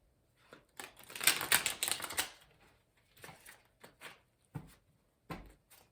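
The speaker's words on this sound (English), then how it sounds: "So let's shuffle." Papery riffling bursts of tarot cards being shuffled, a long flurry followed by several shorter separate shuffles, close and fairly quiet with no talking.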